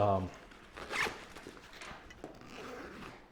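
A zipper on a 5.11 Tactical Rush 24 backpack pouch is drawn open in a couple of quick, raspy pulls close by, following a brief bit of speech.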